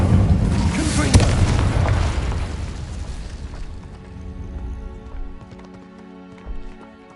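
A Confringo spell in Hogwarts Legacy bursts into a loud booming explosion, followed by a crackling, rumbling decay with scattered debris and a smaller thud near the end.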